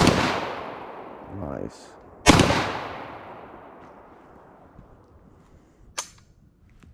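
Black Aces Tactical FD12 bullpup shotgun firing outdoors, two loud close blasts each trailing a long decaying echo, followed by a fainter sharp report near the end, with a brief spoken word.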